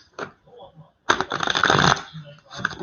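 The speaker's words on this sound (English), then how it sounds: "I'm going to shuffle for you." A deck of tarot cards being shuffled up close, a brief riffle followed by a longer dense burst of flapping, rustling card noise, with a voice speaking around it.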